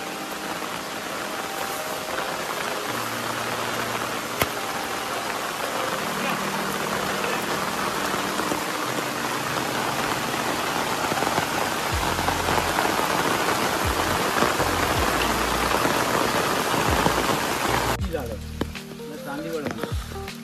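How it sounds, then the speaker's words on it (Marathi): Heavy monsoon rain pours down steadily outdoors among leafy garden plants, a dense, loud, unbroken hiss that dominates throughout and masks any talk. "आला पाऊस जोरात आला"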